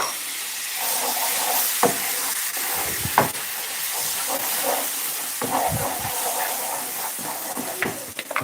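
Food sizzles and hisses steadily while frying in a pan, a constant close crackle with a few louder spits and stirring clatters, and no talking.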